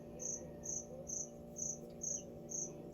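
Crickets chirp loudly from a hiding spot inside a store, a steady rhythmic run of bright pulses repeating about every half second over a low indoor hum, with no voices.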